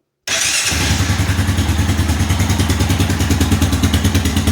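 A Honda engine with a freshly repaired carburetor fires up after a brief dull thump and settles into a steady, loud, even run with a regular pulsing beat. It stays close up and continuous throughout, with no voices.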